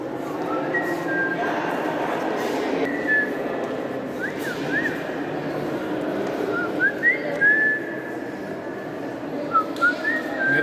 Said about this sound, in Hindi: ओए सीटी बजाना पाप है, सीटी नहीं बजाना चाहिए ना।